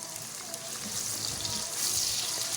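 Three chopped tomatoes dropped into a frying spice mixture for aloo palak, setting off a close, steady sizzle that swells slightly louder and stays constant with no talking.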